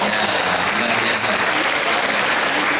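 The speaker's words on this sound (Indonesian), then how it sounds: "Oke, tepuk tangan untuk SMK." An audience at an international essay poetry festival applauds SMK school students with loud, dense clapping that stays continuous and close throughout.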